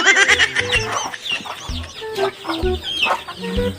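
Several chickens cluck in a busy, overlapping chorus, fairly close and steady throughout, with some higher bird calls mixed in.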